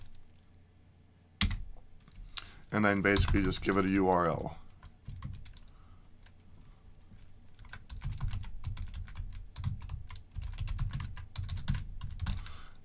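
Rapid keyboard typing clatters up close in uneven bursts, with a brief stretch of someone talking early on before the keys resume.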